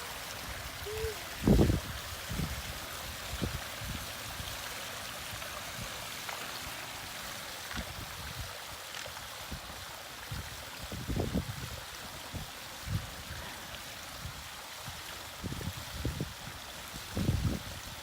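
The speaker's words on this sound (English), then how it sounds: "It's the first running of the waterfall." A newly built backyard waterfall runs for the first time, its pumped water trickling downhill in a soft continuous rush, broken by occasional louder splashes and gurgles.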